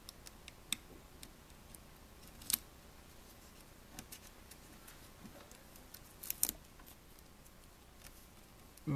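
Cutting carbon fiber wrap for a ThinkPad laptop lid: faint, sparse snips and ticks spread irregularly over a quiet background, with a few sharper clicks and no speech.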